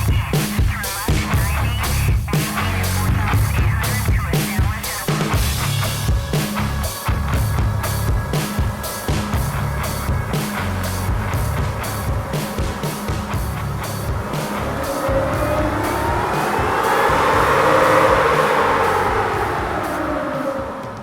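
Supercharged third-generation Toyota Tacoma engine revving hard on a dyno, a loud sustained roar with repeated pulses and a rising, sweeping whine near the end as the pull climbs through the revs.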